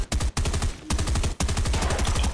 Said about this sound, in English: I'm gonna snipe this dude